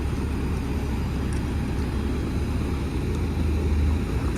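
A small TUG towing tractor pulls a heavy Boeing 767-200F freighter during maintenance, producing a steady loud engine rumble and drone throughout with no speech.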